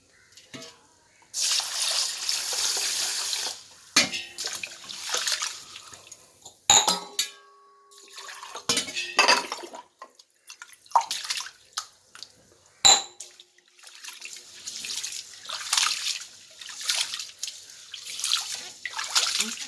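Water runs and splashes intermittently while rice is rinsed and stirred in a vessel, with clinks and drips close by, no one speaking.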